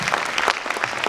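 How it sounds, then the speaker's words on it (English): Standing applause from a forum audience welcoming a guest speaker, dense steady clapping throughout the short moment. "give a big hand of welcome and a standing applause"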